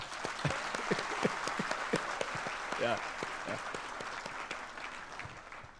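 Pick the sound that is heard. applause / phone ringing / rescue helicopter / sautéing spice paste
applause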